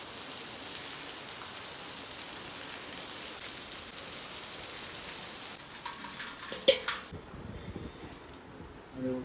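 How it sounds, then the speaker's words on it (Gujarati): Heavy rain pours down steadily as a dense, even hiss, then thins into a patchier patter with a few louder knocks and splashes near the end. "બતાવું કે કેવો જોરદાર વરસાદ આવે છે."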